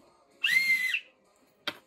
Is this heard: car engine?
no